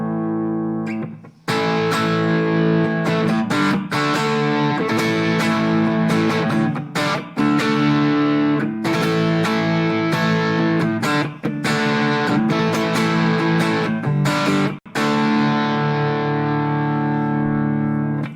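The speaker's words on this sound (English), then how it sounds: "Let's now go to just a little bit of sort of a classic distortion, just a little bit." A Squier Affinity Telecaster electric guitar on its neck pickup, with a light, crunchy distortion, plays chords and phrases for several seconds, warm and rounded, with brief pauses between strums.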